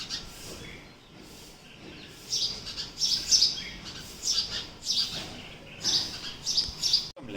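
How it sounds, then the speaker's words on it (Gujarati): Many house sparrows chirp close by in busy, overlapping bursts of high, sharp tweets, coming in repeated clusters. "જો નકરી ચકલીઓ ભેગી થયું છે અહીંયા."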